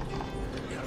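In Red Dead Redemption 2, horses pulling a wagon clop steadily and close, their hoofbeats mixed with a dense, continuous rumble.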